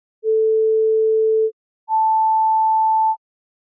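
Two pure sine tones sound one after the other, a lower steady beep followed after a short gap by a second tone exactly an octave higher, each clean and held for over a second.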